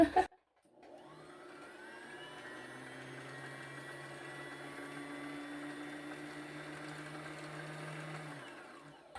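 A home sewing machine winding a bobbin: a click, then a steady close motor whine with a low hum held for several seconds before it winds down.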